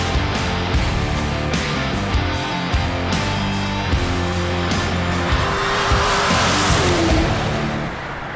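Mid-engine supercars, two Italian and three American, roar past loudly with rising and falling engine revs, gear changes and some tire squeal, without any talking.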